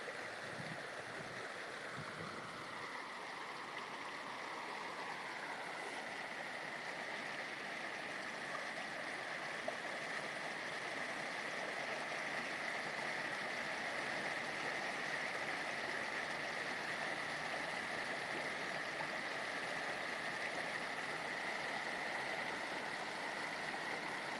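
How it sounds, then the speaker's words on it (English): Water running continuously over a canal lock overflow at a double lock, a steady rushing hiss close by with no voices over it. "Nice sound of running water."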